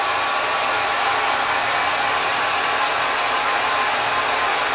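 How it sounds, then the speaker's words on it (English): A hair dryer runs steadily and loudly throughout while someone's hair is dried during a haircut and styling session, with a constant broadband blowing roar and no pauses or talk. "You're going to graduate to 21 strokes to the sides, all while you're drying the hair."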